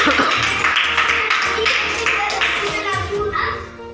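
Children clap loudly and raggedly during a tickle-bindi game at a kids' art class, a dense patter of many hands mixed with close-up children's voices chattering throughout.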